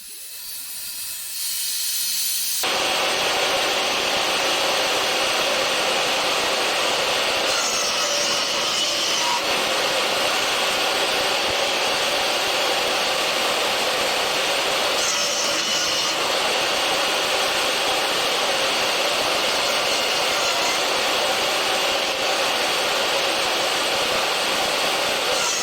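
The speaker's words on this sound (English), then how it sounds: "My table saw sled can be used for 45-degree miters as well," A table saw fitted with a sled cuts 45-degree miters in wood for a display cabinet, giving a loud, steady whine that holds for more than twenty seconds after a quiet start.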